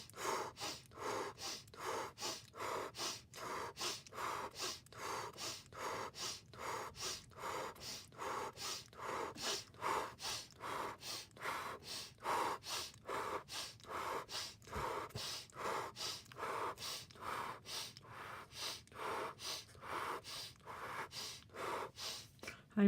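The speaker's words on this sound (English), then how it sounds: "Now we're breathing even quicker than the second stage. We're doing a series of 10 breathing." Rapid rhythmic breathing exercise in a guided holotropic-style session: a long, steady series of quick, forceful breaths, roughly one per half second, close and loud with no talk over them.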